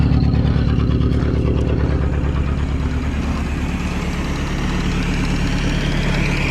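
A Morris 8 engine with a misfire idles loudly and close up, its low, uneven chugging beat continuing steadily for several seconds with no voices over it.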